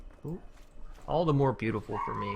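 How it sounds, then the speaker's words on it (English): Small dogs yipping and whimpering in short pitched bursts, fairly close, mixed in with a person talking over them. "You'll have to excuse my dogs for just a minute."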